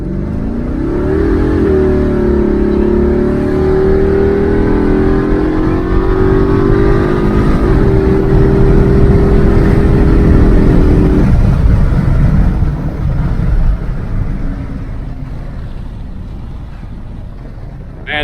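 A 1995 Impala SS with a 383ci engine and big cam accelerates hard, its loud engine note climbing through the gears before the revs drop and it eases off, close and without talk.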